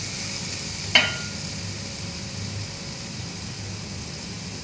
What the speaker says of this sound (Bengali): গাজরটা একটু নাড়াচাড়া করতে হবে